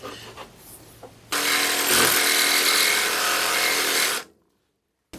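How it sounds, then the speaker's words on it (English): A Sawzall reciprocating saw cuts through a bolt on a 1964 Chevrolet pickup, a loud, steady buzzing rasp that runs for about three seconds after some quieter handling noises, then stops abruptly into silence. "let's see if we can get the Sawzall in there"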